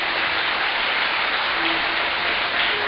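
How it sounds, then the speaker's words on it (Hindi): A large audience at a Bhagwat Katha religious discourse in Siligudi claps together in a continuous, even burst of applause, loud and close, with no speech over it. "सबसे पहली ताली तो आप सिलीगुड़ी नगरी के लिए बजाइए, जिस माटी पर यह आयोजन हुआ।"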